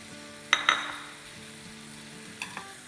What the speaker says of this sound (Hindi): इसमें अब हम डाल देंगे चिकन का कीमा